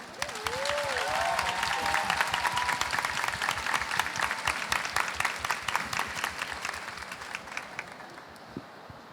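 Steady audience applause at a book fair panel on gender equality, many hands clapping continuously for about nine seconds with brief vocal cries near the start, then tapering off at the end.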